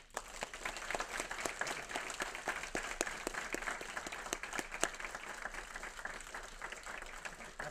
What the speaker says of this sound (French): Alors, on peut l'applaudir